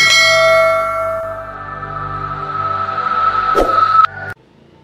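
A ringing bell tone sustains and slowly fades, then a quick whoosh and a bright chime mark a subscribe notification effect before it cuts off.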